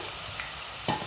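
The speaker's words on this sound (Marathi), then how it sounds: "आता आपण चिप्स जे आहे ते डायरेक्ट तेलामध्ये करणार आहोत." Raw banana chips fry in hot oil with a steady close sizzle, and a couple of brief louder crackles burst out near the end.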